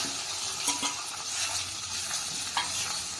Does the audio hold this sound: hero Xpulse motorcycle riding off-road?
no